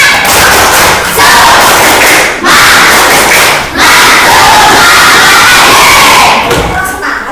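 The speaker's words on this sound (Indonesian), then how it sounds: "Tepuk semangat" Schoolchildren in a classroom performing a rhythmic clapping and shouting chant, very loud and close, with energetic group yelling over claps in bursts separated by brief pauses.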